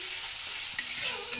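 Ginger garlic paste fries in mustard oil in a pan, a steady bright sizzle with a spoon stirring and scraping through it, close and continuous.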